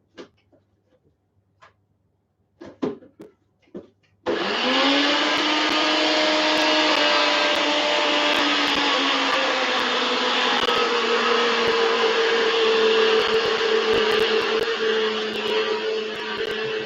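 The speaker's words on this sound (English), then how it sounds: "even the sound of the NutriBullet is better than it used to be" NutriBullet blender starts after a few light knocks and handling sounds, then runs as a loud, steady whirring drone for the rest of the clip in a home kitchen during an African peanut stew cook.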